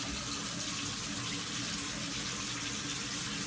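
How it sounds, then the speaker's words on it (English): Tap water running steadily onto a toy doll, a constant close hiss of flowing water with no breaks. "turn on the water. Now you know, get it wet and froth it up."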